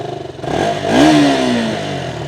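A 2019 KTM RS200 motorcycle engine comes alive and is revved once, its pitch climbing sharply then easing back to a close, rattling idle with no speech.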